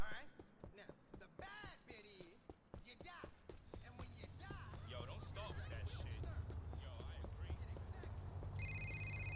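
A phone rings in Grand Theft Auto 4, a brief electronic ringtone that starts near the end. Before it, game sounds and voices play, including clattering and footsteps.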